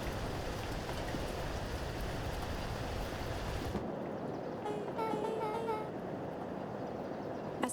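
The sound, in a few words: rain storm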